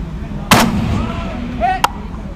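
Two sharp, loud gas gun rifle shots crack out at an outdoor range while firing at a 500 yard target, about a second and a half apart, over steady wind and background noise.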